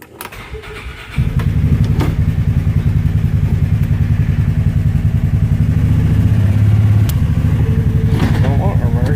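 A Polaris Ranger 570 side-by-side's engine idles, then revs up into a steady, loud, throbbing drone as the vehicle pulls forward, with a brief clatter near the start.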